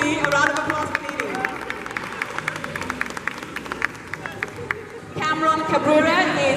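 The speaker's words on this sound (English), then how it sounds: "A round of applause for Nini." Audience applause with scattered claps and crowd murmur at a fashion show, a steady patter under voices and chatter, swelling louder near the end.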